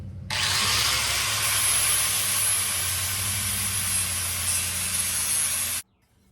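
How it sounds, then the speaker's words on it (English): A flat grinding disc grinds down a plastic edge on a Virago bobber build, a loud, sustained, close whine that starts abruptly and cuts off near the end. "all I'm using is a flat disc and it's just kind of grinding it down pretty easily"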